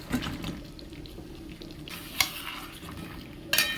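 Cut potatoes and pointed gourd fry in spiced oil as they are stirred, giving a soft sizzle broken by a few sharp spoon clinks and scrapes against the pan.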